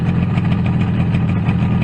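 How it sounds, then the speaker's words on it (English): A Yamaha RD250B motorcycle engine idles steadily at close range, a continuous low two-stroke burble with an even, slightly pulsing rhythm and no voices. "Nicely running, nicely idling."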